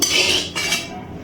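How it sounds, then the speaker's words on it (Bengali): A spoon works salt into hot mustard oil in a pan: two brisk, close metallic scraping strokes with a bright hiss, the second ending abruptly, with no voices. "এবার এই তেলের মধ্যে দিয়ে দিচ্ছি অল্প করে লবণ, একটু নাড়াচাড়া করে নিচ্ছি।"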